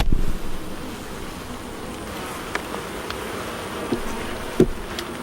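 Bees buzz around backyard beehives in a continuous low drone, with individual insects passing close by in brief louder swells over the steady hum, and no voices.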